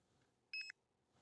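One More Cast carp fishing bite alarm sounding a short, close burst of three rapid electronic beeps, clear against near silence.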